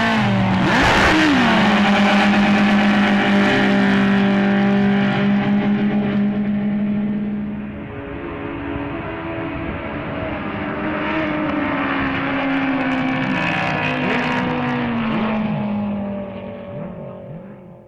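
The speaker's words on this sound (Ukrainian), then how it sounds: "Так відбуваються перегони з водномоторного спорту" Racing powerboat engines of the R2000 class roar in a loud, sustained drone whose pitch rises and falls as the boats pass, with no voices over them.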